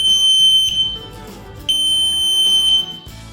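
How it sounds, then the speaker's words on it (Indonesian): A microcontroller-controlled moringa leaf dryer sounds its electronic alarm to signal the end of a test: two long, loud, steady high-pitched beeps separated by a short gap, over a low background hum. "ditandai dengan bunyinya alarm."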